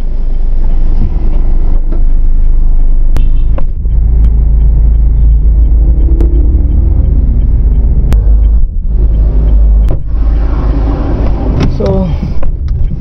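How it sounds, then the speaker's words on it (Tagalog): Heavy road traffic rumbles steadily in a jam with queued trucks and cars, a loud low engine drone with occasional clicks and brief passing swells. "we're stuck in traffic."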